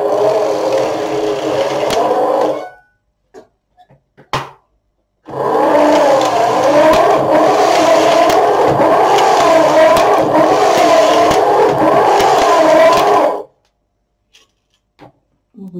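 Singer double-bed knitting machine knitting rows of waste yarn: a close whirring, rhythmic carriage sweep lasting a couple of seconds, a pause with a few clicks, then a longer eight-second run of the same undulating mechanical hum.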